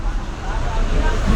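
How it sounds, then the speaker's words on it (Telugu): Bus on the Tenali to Jolapalem route near Vemuru, with a steady loud low engine and road rumble throughout. "తెనాలి జోలపాలెం ప్రయాణం ప్రస్తుతం వేమూరు చేరుకుంది బస్సు."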